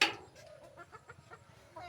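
Large desi chickens on a poultry farm in Kujail village, Baraigram, give a few soft, faint clucks in quick succession against quiet background noise.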